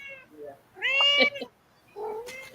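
A pet cat meows several times in short, close, rising calls, with a louder drawn-out meow in the middle and another at the end, the sounds separated by quiet pauses.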